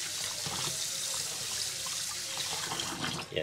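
Pirurutong rice being washed in water, a continuous close splashing and swishing of grains and liquid, like water running into a sink, with no talk.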